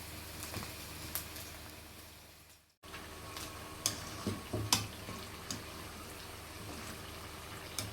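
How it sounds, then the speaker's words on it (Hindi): Samosa pastry strips fry in hot oil in a pan, giving a soft steady sizzle with scattered clicks and taps of utensils, moderately quiet and close. "इनको आपने लाइट गोल्डन होने तक फ्राई करना है"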